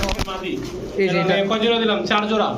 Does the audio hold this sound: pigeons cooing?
yes